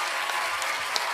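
A large crowd of around two thousand at a live Honky Talkin country show claps and cheers in dense, continuous applause, loud and close, with no talking.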